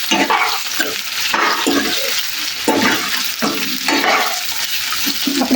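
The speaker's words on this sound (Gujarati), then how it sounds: "હવે એમાં લીલા મરચાં નાખીશું, તેમાં મુઠિયા નાખીશું, સારી રીતના મિક્સ કરી દઈશું।" Muthiya and green chillies go into a hot sesame-seed tempering, giving a steady sizzle and frying hiss with repeated stirring scrapes throughout, fairly loud and close, with no talk.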